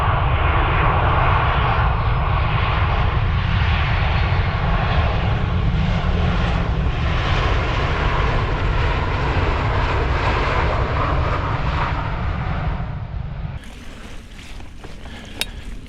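A large aircraft passes near Manchester Airport with a loud, sustained jet engine roar that slowly shifts in pitch, then drops away abruptly toward the end, leaving quieter wind-like background noise.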